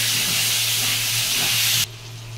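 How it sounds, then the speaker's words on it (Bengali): Potatoes with cumin fry lightly in oil, giving a loud, close, even hiss that holds steady, then drops off abruptly near the end to a quieter hum. "এবার আলুটা একটু হালকা করে ভেজে নেব।"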